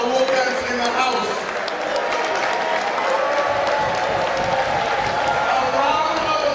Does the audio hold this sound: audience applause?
yes